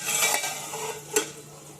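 Onions roast alone in a pan with a soft steady sizzle, punctuated by two quick scrapes of a spoon stirring against the metal, close and without talk.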